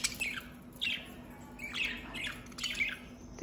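Budgies in a cage give four sharp, bright squawks spaced roughly a second apart, fairly faint, over a low background hum.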